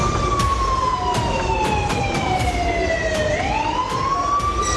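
A warning siren wails steadily and loudly for the whole stretch, its pitch sliding slowly down and then back up, over constant background noise with faint traffic-like rumble.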